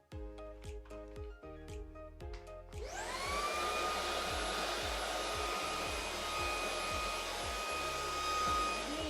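A Shark Anti Hair Wrap cordless handheld vacuum cleaner switches on with no attachments fitted, its motor spinning up to a loud, steady whine. Beat-driven music plays before it starts and continues underneath.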